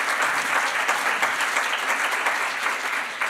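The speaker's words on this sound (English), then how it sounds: "Would you give them a round of applause as they come to me?" An audience at a national symposium on health, justice and ageing claps steadily, a thick even wash of applause filling the hall without pause.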